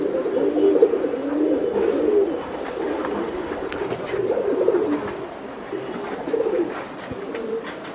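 Racer pigeons cooing in a loft with a hen sitting on eggs, a steady run of low, throaty coos that repeat in overlapping phrases, close and fairly loud throughout with no voices.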